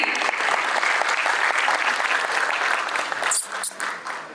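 An audience at an audio launch event for a musical album claps in sustained, dense applause that fades slightly toward the end.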